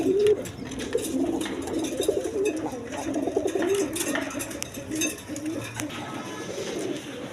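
A single new-adult male Rasgolla pigeon coos in a series of low, rolling calls up close, strongest in the first half and then tapering off against a light background murmur.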